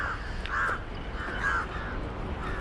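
Crows cawing outdoors in rural Karjat, Maharashtra, India, a couple of drawn-out harsh calls at moderate distance over steady background ambience.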